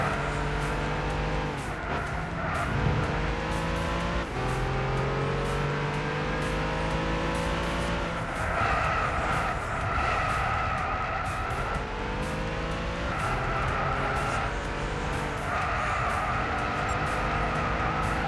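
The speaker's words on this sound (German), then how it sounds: "das Auto fährt sich mal so brutal nice" A race car in Gran Turismo 6 on PS3, driven with paddle shifters around a circuit, its engine droning steadily and rising and falling in pitch through gear changes, with tire squeal near corners.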